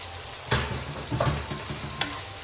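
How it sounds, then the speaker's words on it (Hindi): Tomatoes, spices and chickpeas fry and get stirred in a pan for a Pakistani chicken and chickpea curry, a steady low sizzle broken by a few sharp scrapes and clatters of the spoon, close by with no talking. "अब फिर भूने जाओ भूने जाओ भूने जाओ"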